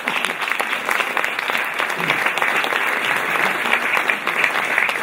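Audience applause welcoming Professor Salvatore Settis at a film screening event, loud, close, sustained clapping from a sizable crowd with sharp individual claps standing out.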